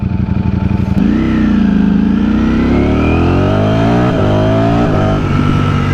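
A Ducati Streetfighter motorcycle rolls along at low speed in first gear, its engine note loud and close, rising smoothly in pitch as it pulls away, then easing and shifting near the end.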